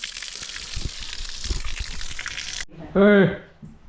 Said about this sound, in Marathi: पाणी मारतो